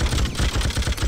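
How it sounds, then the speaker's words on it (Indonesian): Heavy machine gun fire in the PC game Freedom Fighters: a dense, continuous burst of rapid low thumping shots, loud and close, with no talk over it. "Nah, ini heavy machine gun. Ini enak banget senjatanya."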